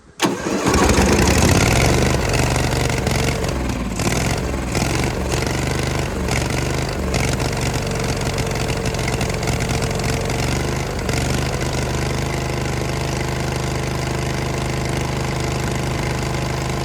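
A Hydra-Mac 8c skid steer engine, air filter removed, starts and then runs loud and steady at a rough idle for the whole stretch, close up with no voices.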